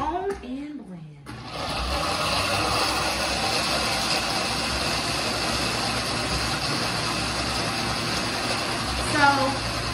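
A blender whirs steadily while blending vegan pesto sauce with herbs and onion powder, a continuous motor drone after a brief start, close and loud, with a voice speaking over it.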